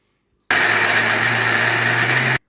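A kitchen mixer grinder blends sweet corn and moong dal into a coarse batter, starting abruptly and running at a steady, loud, high whine for about two seconds before cutting off.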